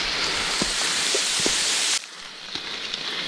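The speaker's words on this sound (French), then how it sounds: "Il pleut énormément." Heavy rain pours down along a mountain trail in South Korea, a dense, loud hiss that abruptly drops to a softer patter partway through.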